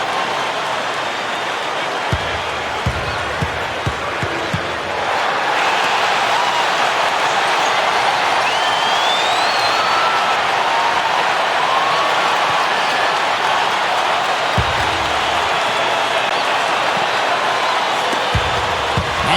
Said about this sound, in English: And now the crowd really getting into it. Listen to that. It is shaking in here